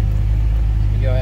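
Supercharged engine of a 2005 Ford Mustang Saleen S281 running at a steady idle, a loud, deep, even rumble heard up close for just over a second, with a faint whine rising near the end.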